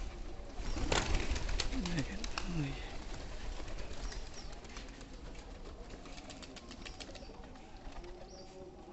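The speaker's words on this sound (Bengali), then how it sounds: "কবুতরের অসাধারণ অসাধারণ ডাক" Pigeons returning to their lofts coo amid flapping and rustling, with someone talking over the birds throughout.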